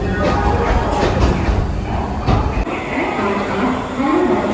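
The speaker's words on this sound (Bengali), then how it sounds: "এই আমাদের train black diamond express superfast Howrah Dhanbad" Black Diamond Express superfast train on the Howrah–Dhanbad route pulling out of Howrah station, a steady loud rumble of rolling wagons with faint rhythmic wheel clatter throughout.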